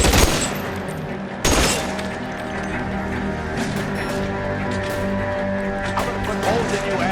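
Video game shootout in L.A. Noire with rapid, loud bursts of gunfire, a sharp volley at the start and another about a second later, then sustained shots and clatter over a busy game soundtrack.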